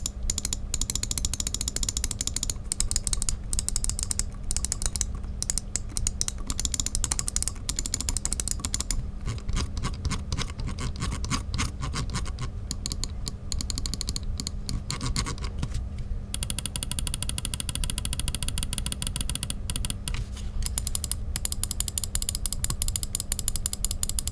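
Rapid, crisp button clicks on a G-Wolves Hati Stardust gaming mouse repeat close up in quick bursts and steady runs, sharp little snaps one after another with no talking.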